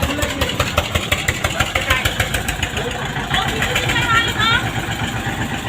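Tractor engine running nearby at a construction site where soil is being filled, a loud steady diesel chug with rhythmic knocking pulses, while someone talks over it.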